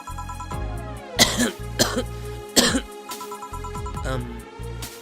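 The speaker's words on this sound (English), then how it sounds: "And you're clearing your throat?" Throat clearing from a character in the visual novel game VA-11 Hall-A, a few short raspy bursts over steady game background music.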